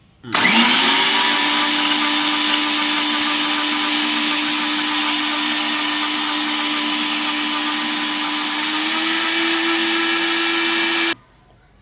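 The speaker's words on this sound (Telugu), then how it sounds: "ఇప్పుడు మిక్సీ పట్టి" A mixer grinder whirs steadily as it blends Oreo biscuits with a cup of milk, Hershey's syrup and three or four ice cubes into a milkshake, with a loud, even motor drone that starts sharply and cuts off just before the end.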